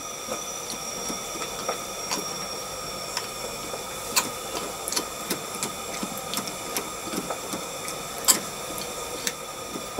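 A scratch-built gauge 1 live steam model locomotive running on steam, with irregular ticking and soft clicking pulses over a faint hiss, fairly close and quiet.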